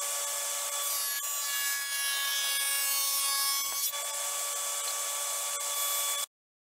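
Table saw running steadily as cherry and barnwood pieces for side tables are fed through to cut grooves, a loud continuous whine with a brief dip near the middle before the sound cuts off abruptly.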